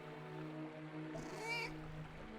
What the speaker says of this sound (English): What cat? Oh, this cat?